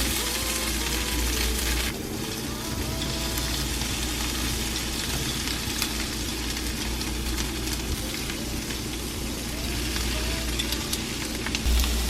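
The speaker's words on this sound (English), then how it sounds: "I'm gonna add the tofu. Oh my gosh. Okay, I'm gonna lower the heat. It is sizzling." Tofu fries in a hot pan for a vegan tofu curry noodle dish, giving a close, continuous crackling sizzle that holds steady throughout, with faint stirring and a low hum underneath.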